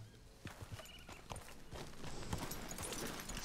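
Rhythmic clip-clop of horse hooves trotting in Red Dead Redemption 2, steady and fairly close, over a low rumbling background.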